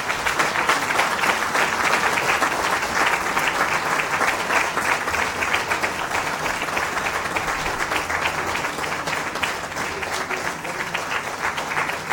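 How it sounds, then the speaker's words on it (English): Steady, sustained applause from an awards-ceremony audience at a sanitation awards event, a dense wash of clapping hands continuing evenly throughout with no breaks. "clapping should go on"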